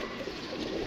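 Pigeons coo in a soft, steady run close by, a low murmuring call that carries on through the whole brief moment with no talking over it.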